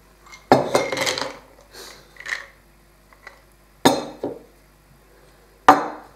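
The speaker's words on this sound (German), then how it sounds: "Darauf folgen dann die Cashewkerne." Cashew nuts tip into a blender cup for a banana cashew chocolate smoothie, a loud clattering rattle followed by a few separate hard knocks and clinks against the container.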